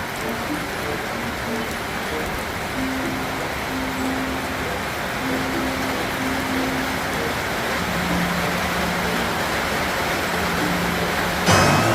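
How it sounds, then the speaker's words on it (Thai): Rain falls steadily at an elephant home in a continuous broad hiss, with faint low tones and a distant hum underneath, ending in a brief louder burst. "ก็เก็บบรรยากาศตอนที่ฝนตก"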